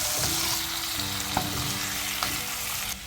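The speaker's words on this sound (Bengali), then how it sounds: "খুব ভালো করে নেড়ে মিশিয়ে নিচ্ছি।" Fish fillet and potato curry being stirred in a pan, with a steady sizzle and frying crackle throughout and a few soft scraping clinks of the spoon against the pan.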